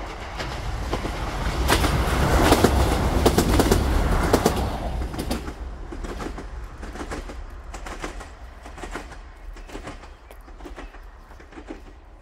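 A Class 158 diesel passenger unit passes on the outskirts of Brora in the north of Scotland, a loud rumbling approach peaking early then fading, with repeated clickety-clack wheel beats over rail joints continuing as it recedes.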